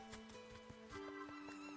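Horses in a video game, with quick clip-clop hoofbeats and a faint whinny over a steady tonal hum of game music and ambience, all fairly quiet.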